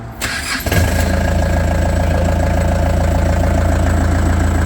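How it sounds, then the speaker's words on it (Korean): A small construction forklift engine cranks briefly for under a second, catches and settles into a steady, close, even idle that continues alone without talk. "이 상태에서 시동을 거는 게 좋습니다"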